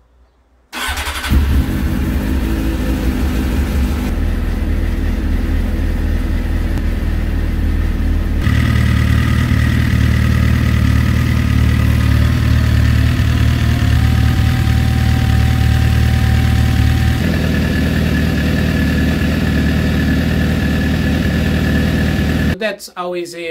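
A 2014 Suzuki GSXR1000 sportbike engine with a newly replaced radiator idles steadily as it warms up, a loud continuous rumble whose tone shifts partway through as the cooling fan kicks in, ending abruptly.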